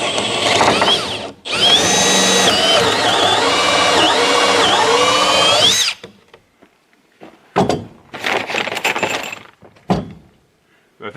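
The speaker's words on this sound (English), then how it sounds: "Now I'm going to just drill 1 hole at the top, and I'll put a bolt in there" A power drill whines loudly and steadily as it bores a hole through a wooden sideboard on a 1960 International Harvester B180 flatbed dump truck, its pitch shifting under load, then stops and leaves scattered knocks and handling noises.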